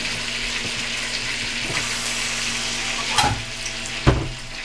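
Chicken cooking in one pot with water sizzles and bubbles steadily, with a couple of brief louder clinks or stirring knocks standing out over the frying.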